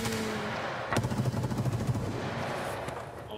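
Rapid automatic gunfire in the shooter game Escape From Tarkov, a burst of closely spaced loud shots that then fades into echoing tail, with no talking over it.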